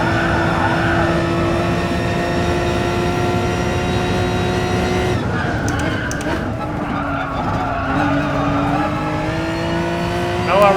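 Race car in Gran Turismo Sport braking hard into a second left-hander, engine note dropping through downshifts with tyre squeal and skidding, loud and continuous, then revving back up out of the corner.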